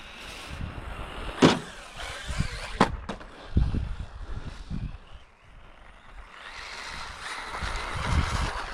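An Arrma Mojave Grom BLX 2S RC truck runs at speed, its electric motor whining in rising and falling bursts with sharp knocks and thumps from bumps, fairly close.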